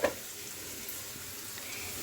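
Chili powder stirred and fried in oil for tomato chaabees, a soft continuous sizzle with a brief scrape of the utensil at the start, steady and close with no talking.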